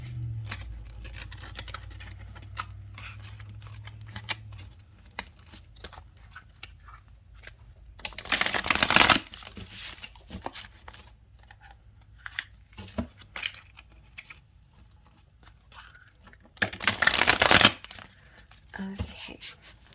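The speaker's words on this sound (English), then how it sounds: "Let's shuffle the deck and see what we get." Tarot cards with fairy-tale artwork shuffled by hand, two bursts of riffling around the eight- and seventeen-second marks amid lighter card handling and a brief low hum early on, close and fairly quiet.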